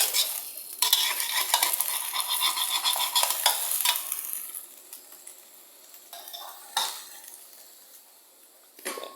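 Thai-style omelette frying in a pan, loud steady sizzling close up with scraping and stirring of a utensil against the pan, fading somewhat toward the end.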